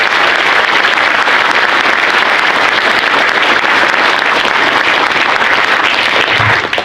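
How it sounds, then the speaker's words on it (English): A large crowd at a Navy change of command ceremony gives loud, dense, continuous applause that holds steady for several seconds before ending abruptly. "round of applause for the ombudsman and the FRG"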